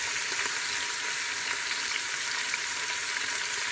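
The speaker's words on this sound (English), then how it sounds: "we are going to be browning this in batches" Chicken pieces brown in a hot pan over a high flame, giving a constant loud hissing sizzle with faint crackles and no voices.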